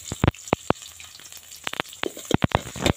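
Red chillies, green chillies and finely chopped garlic frying in hot oil crackle and pop in sharp bursts over a low steady sizzle, close and fairly loud, with no talk.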